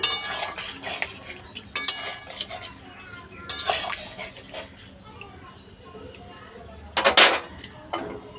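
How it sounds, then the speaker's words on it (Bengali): A spoon stirs curry sprinkled with garam masala in a metal pot, giving a few scattered clanks and scrapes against the sides with quiet pauses between, close by, under a low faint sizzle. "এর উপর দিয়ে একটু গরম মশলা ছড়িয়ে দিলাম দিয়ে ভালো করে একটু নেড়ে দেব"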